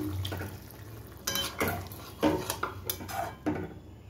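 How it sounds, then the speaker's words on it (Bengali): Milk is poured slowly into chicken cooking in a pan over low heat, with soft liquid sloshing, a faint sizzle and several clinks of a utensil against the pan, all close by. "এবার আমি আস্তে আস্তে দুধটা দিয়ে দিলাম।"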